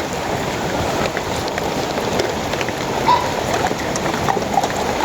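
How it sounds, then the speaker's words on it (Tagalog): Steady rain falls on a mountainside, a dense, even patter of drops on surfaces throughout, with faint scattered knocks beneath. "Ang ulan po pati ngayon"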